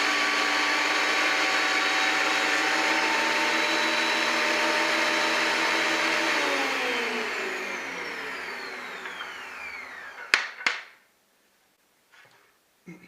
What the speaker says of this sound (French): je vais raboter tout ça avec mon petit Metabo DH330